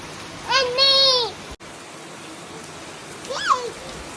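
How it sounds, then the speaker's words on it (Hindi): Steady heavy rain hisses throughout while a voice calls out over it twice. "इतनी तेज बारिश हो रही है।"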